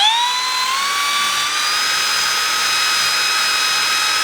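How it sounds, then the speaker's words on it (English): A wire wheel on a power tool removing paint and rust from metal on an 80 Series Land Cruiser: a loud, close, steady high whine that rises as it spins up and then holds level. "Now we're going to just take a wire wheel, since we're going to be welding on this surface here"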